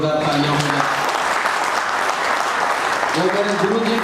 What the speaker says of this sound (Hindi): मैं चाहूँगा एक बार जोरदार तालियां होंगे।